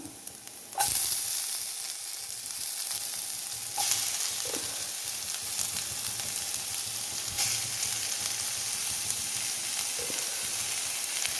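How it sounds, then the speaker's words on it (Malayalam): Onions hit hot oil already holding mustard seeds, ginger and garlic, giving a steady close sizzle and crackle with a few sharp pops and stirring scrapes throughout, alone without talk. "എണ്ണ ഒഴിച്ചു കടുകിട്ടു ഇഞ്ചിയും വെളുത്തുള്ളിയും ഒരൽപ്പം ചേർത്ത് കൊടുത്തു ഇനി നമുക്ക് സബോള ഇട്ട് കൊടുക്കാം"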